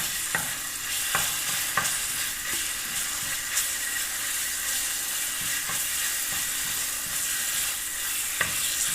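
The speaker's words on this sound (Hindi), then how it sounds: "ये लहसुन अदरक के पेस्ट को थोड़ा सा हल्का हल्का सा भूनना है" Steady sizzling of garlic ginger paste frying in hot oil, with occasional sharp clicks and scraping stirs breaking through the constant hiss.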